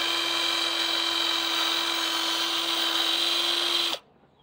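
Electric screwdriver fitted with a cut tire-valve tip spinning against glue on a Mercedes A 190 body, a loud steady motor whine with a constant pitch that cuts off abruptly near the end.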